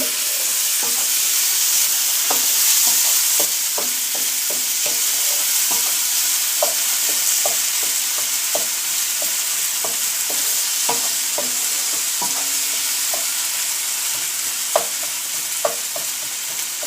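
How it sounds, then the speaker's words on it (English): Ginger garlic paste frying in a pan, a continuous close sizzle broken by frequent clicks and scrapes of stirring. "about 2 to 3 tablespoons of ginger garlic paste and fry"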